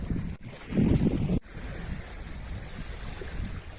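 Surf rolls in at Periyapattinam beach in Ramanathapuram, a steady broadband wash of waves mixed with wind buffeting the microphone, swelling louder for a moment early on before settling into a continuous roar.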